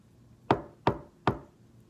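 Three sharp knocks on a door, evenly spaced and fairly close, each a crisp thud with a short decay, sounding alone against a quiet background.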